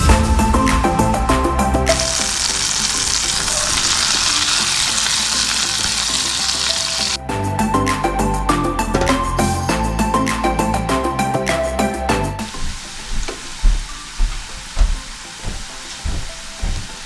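Onions and garlic fry in butter, a loud close sizzle with stirring scrapes and clinks of the utensil, the hiss shifting in intensity as the pan is worked, then settling into crackling pops near the end.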